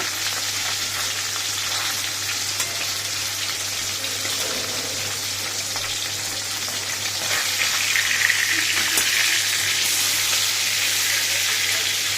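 Fish frying in oil after being turned over crackles steadily, growing slightly louder and busier in the latter part as the heat rises, close up with no talking.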